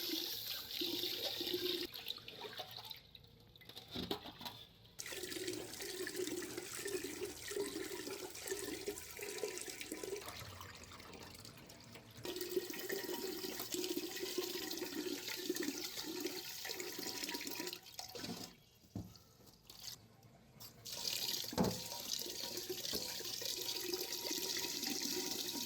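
Rice washed under running tap water: a steady, fairly quiet rush and splash of water that drops out briefly a few times, with no voices.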